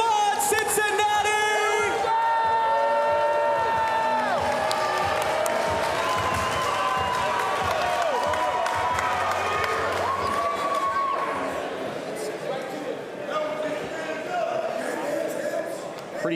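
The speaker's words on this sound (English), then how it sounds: "Cheer 'em on, Cincinnati!" A crowd at a Cincinnati fight night main event roars and cheers continuously, with whoops and applause rising under an announcer's booming voice.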